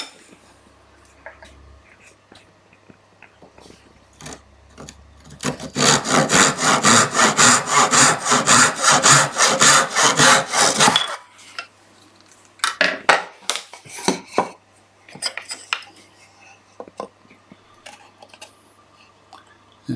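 A hand saw cuts through wood while updating a storage unit, with a run of rapid, even back-and-forth rasping strokes in the middle, followed by a few scattered strokes and quiet handling noises.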